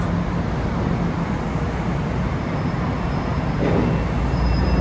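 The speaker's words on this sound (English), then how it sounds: "let's watch the train leave before we go to the final stop" A Metro-North Railroad train pulls away from Fleetwood station, a loud, steady rumbling roar of wheels and motors that holds constant for several seconds, close by, with no one talking.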